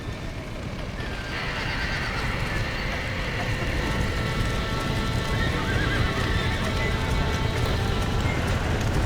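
Horses in the Red Dead Redemption video game whinny and clop along amid a dense, roaring wash of noise, with loud steady hoofbeats and neighs cutting through the whole stretch.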